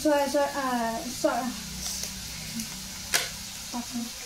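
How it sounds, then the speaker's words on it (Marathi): Fried rice sizzles in a pan while being stirred, with soft scraping and squishing near the mic and a person talking over the start. "तोपर्यंत आपण याला थोडं हलवून घेऊ"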